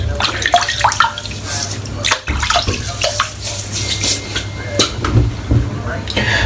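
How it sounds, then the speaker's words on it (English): Water splashes and trickles from a tap onto a head being wetted before a shave, an uneven run of close splashes and drips with a steady low hum beneath. "So all I'm going to do is wet my head."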